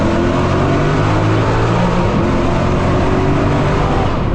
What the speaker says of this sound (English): The current headers I have on this car are called the PPE unequal length headers, and they sound like this.